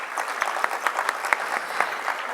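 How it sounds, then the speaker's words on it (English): An audience applauds steadily at a Bharatanatyam arangetram dance recital, dense clapping from a crowd filling a hall, loud and continuous for a couple of seconds with no voices over it. "Please give a huge round of applause for yourself."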